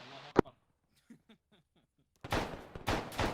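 Arma 3 gunfire punching through walls: one sharp close shot, then a string of faint muffled pops, before two louder longer bursts of noisy firing or impacts near the end.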